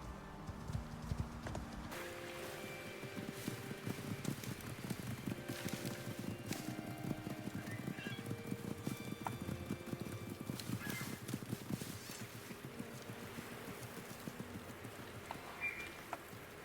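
Horse hooves clip-clop steadily in the Icarus survival video game, a close, even rhythm of hoof falls continuing throughout against a quiet game background.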